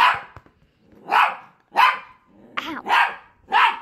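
A dog barks repeatedly at close range, five or six sharp, evenly spaced barks with brief pauses between, some with a rough growly edge.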